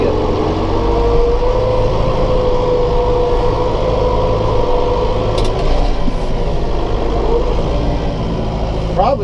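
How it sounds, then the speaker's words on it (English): A small John Deere 1755M tractor with a big grapple drives through a soft, swampy field, its engine droning steadily at close range with a constant low rumble and slight load changes. "Probably a good thing I'm using this little tractor."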